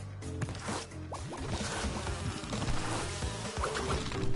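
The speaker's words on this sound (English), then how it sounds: "Don't you dare sting me," Bees in Crash Bandicoot N.Sane Trilogy buzzing amid busy game sounds and music, a close, continuous droning hum with scattered sharper effects layered over it.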